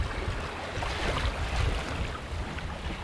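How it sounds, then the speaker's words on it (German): Water rushes steadily under the hull of a sailboat under way off Greece. It is a continuous broadband wash, mixed with wind buffeting the microphone. "Mir fehlt immer was, wenn ich das Wasser nicht rauschen höre unter dem Boot"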